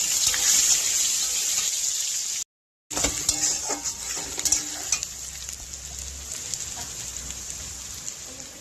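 Masala paste with potatoes sautés in oil in a home kitchen, a dense, continuous hiss and sizzle with soft stirring scrapes, close up, cut by a brief gap of silence before the frying resumes.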